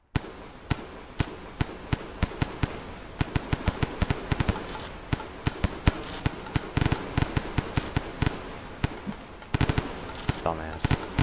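A minigun fires in the video game Rain World, a loud, dense stream of rapid gunshot bursts that barely pauses for eleven seconds, with sharper cracks near the end.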